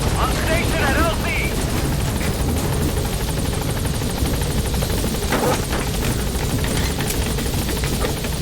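A helicopter in the video game Metal Gear Solid V drones loud and steady throughout, with a dense rotor roar and distant gunfire mixed in while voices talk over the radio.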